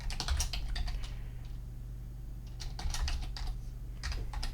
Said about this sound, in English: Ask me for my magic password, so I'm going to sit there and type that in